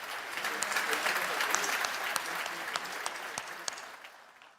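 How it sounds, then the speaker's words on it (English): Audience applause in a large hall at a heads-of-state annual meeting of the African Development Bank, a dense wash of clapping that swells and then tapers off, with scattered sharper claps. "I think they deserve a better round of applause."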